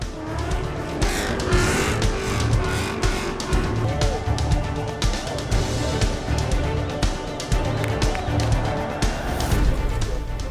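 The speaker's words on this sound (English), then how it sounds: "It was a perfect landing onto the grid and time for some donuts to complete the stunt." A rally car does donuts on a tarmac starting grid, its engine revving and rising and falling continuously through a long stretch of loud, close motor noise with tire scrubbing mixed in.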